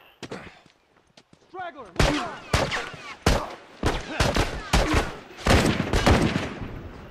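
Gunshots from The Last of Us video game ring out in a loud, irregular string of sharp cracks, some in quick bursts, after a quieter start with a shouted voice and chatter.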